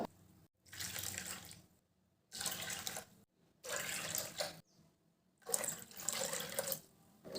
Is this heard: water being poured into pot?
yes